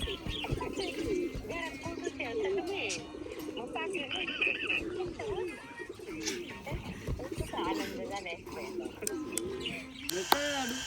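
Pigeons coo and other birds call outdoors in a village setting. Soft, repeated cooing and chirps run steadily under a constant background of voices and ambient noise, with a brief sharper sound near the end.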